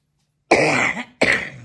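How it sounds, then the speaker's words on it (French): A person coughs twice at close range, the first cough longer and harsher, the second shorter, with a brief pause between them and no talking. "Oh, tu tousses."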